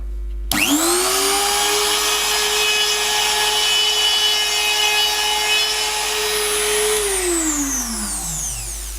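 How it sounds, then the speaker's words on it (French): A 3000 W budget trim router spins up abruptly and holds a loud, steady high whine while cutting a groove in wood, then winds down with a falling pitch near the end. "je vais regarder ce que ça fait si je fais une petite défonce"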